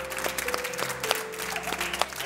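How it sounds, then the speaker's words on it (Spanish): An audience bursts into short applause, a quick patter of clapping with a few voices and sharper claps cutting through. "Un aplauso."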